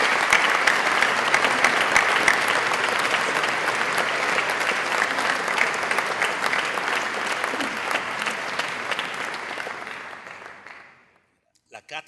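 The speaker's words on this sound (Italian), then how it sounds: "a cui indirizziamo un meritatissimo applauso" An audience gives sustained applause for a professor at a ceremony, a thick, steady clatter of many hands that gradually thins and fades out near the end, followed by a few faint stray sounds.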